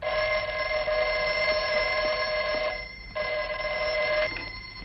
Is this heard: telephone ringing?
yes